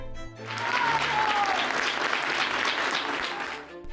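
Supreme Court workers at a protest in Mexico break into applause for Court president Norma Piña, a dense burst of clapping that swells quickly, holds for several seconds, then tapers, with a brief whistle-like tone early on.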